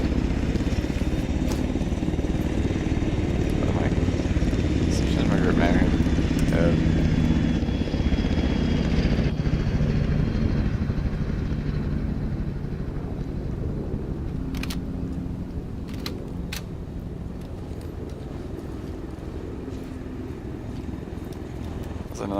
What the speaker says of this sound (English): There's another chopper coming in.